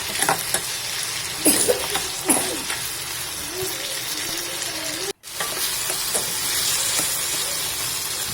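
Moringa drumsticks, tomato and onion fry in hot oil for a Tirunelveli-style fenugreek kuzhambu, making a steady close sizzle broken by a few stirring scrapes and a brief cut, with no voices.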